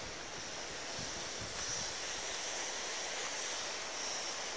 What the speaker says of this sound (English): here you can smell the Atlantic, and you can see the waves.